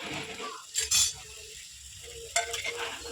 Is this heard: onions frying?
yes